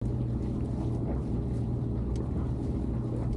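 A sailboat motors slowly out of an anchorage under engine, a steady low diesel drone with wind and water rushing over it. The noise holds constant throughout, with no voices.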